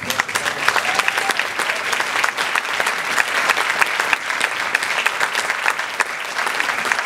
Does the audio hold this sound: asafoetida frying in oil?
no